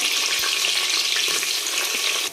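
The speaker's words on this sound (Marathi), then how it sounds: "आपल्याला याच्यामध्ये कांदा टाकायचा आहे आणि कांदा चांगला एकदम लालसर तळून घ्यायचा" Chopped onion fries in hot oil with a bay leaf in a pressure cooker for chicken biryani, giving a loud, dense, continuous sizzle that stays steady before dropping slightly at the very end.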